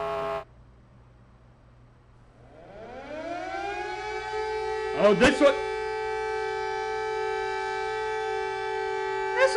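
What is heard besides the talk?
Emergency Alert System (EAS) alarm tones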